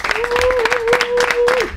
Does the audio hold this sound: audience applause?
yes